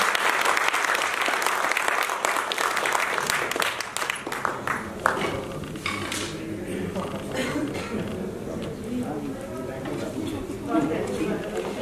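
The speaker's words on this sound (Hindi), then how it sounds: "आप सब लोग मानव जी के लिए तालियां बजा सकते हैं।" An audience at a theatre festival's lifetime achievement award ceremony applauds, loud dense clapping that fades over several seconds into murmuring chatter and a voice speaking.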